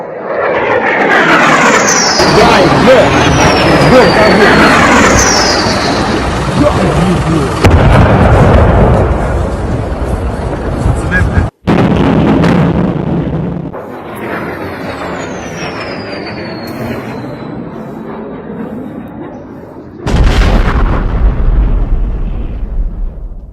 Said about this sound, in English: Overnight, more shelling in Ukraine, including the capital city of Kyiv.